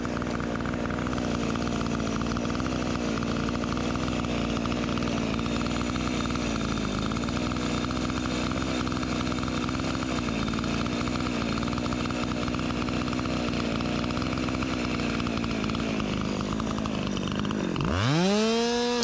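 Husqvarna 372XP chainsaw engine running steadily at high, even revs for most of the clip, loud and close, then the pitch wavers and drops sharply near the end as it bogs toward a stall.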